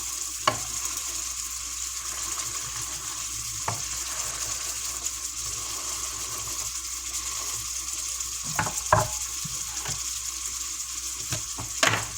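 Meat for Salisbury steak frying in its own grease in a pan, a steady soft sizzle with a few sharp pops and clicks of spatters, heard alone without talk.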